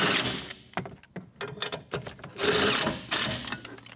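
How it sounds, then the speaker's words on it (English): Bolt and nut being tightened by hand onto the battery hold-down stud of a 2012–2017 Toyota Prius V, a series of close metallic ratcheting clicks and scrapes in uneven bursts, with no talking. "Place our bolt and our nut. And we can bolt those down."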